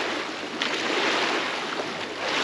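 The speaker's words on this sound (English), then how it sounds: "Look at the sound of lapping water." Water laps gently and steadily at the water's edge, a soft continuous wash with small splashes close by and no voices.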